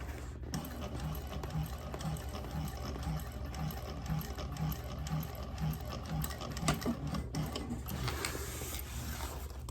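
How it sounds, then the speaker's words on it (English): A sewing machine stitches a handbag with a steady, rapid mechanical rhythm close to the microphone, running without pause and with no voices. "Sewing up to the mark."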